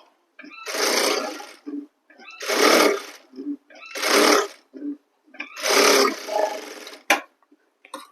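A sewing machine stitches a suit piece in four loud bursts of rapid running, each lasting about a second, separated by short pauses and small mechanical clicks.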